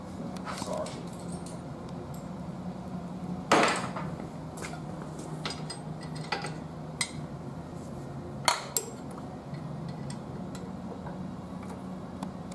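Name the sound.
Allen key undoing three Allen head bolts on coupling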